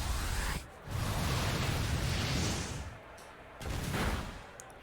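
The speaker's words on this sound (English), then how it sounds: "Is Blissey with an explosion." Blissey's Explosion move in a Pokémon video game battle lands as a loud, sustained roaring blast of noise, breaking off and surging again in two bursts.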